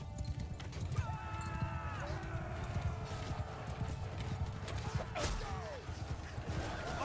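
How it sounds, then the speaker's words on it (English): Horse archers gallop in Mount & Blade II: Bannerlord, with steady hoofbeat clip-clop and whinnying horses over a continuous rumble of battle, at moderate loudness throughout. "It looks like their reinforcements have some horse archers."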